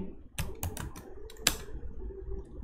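Computer keyboard typing as HTML image-tag code is entered for a PHP form tutorial: a handful of quick, crisp key clicks in short irregular bursts, close and moderately quiet, with no speech.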